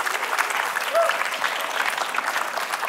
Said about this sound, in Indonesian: tepuk tangan untuk Tia